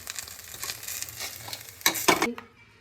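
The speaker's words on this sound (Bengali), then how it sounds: "এই দিকটাও ভেজে নিয়েছি এরকম করে ভেজে নিয়েছি" Aloo paratha stuffed with potato and chhena frying in a pan, a steady soft sizzle with faint scraping, then a couple of louder spatula clatters near the end before the sound drops away.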